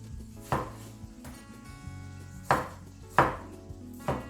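Four crisp knife strokes land on a cutting board, unevenly spaced, as tomatoes are thinly sliced for a mixed vegetable curry. The sound is close and clear with no talking.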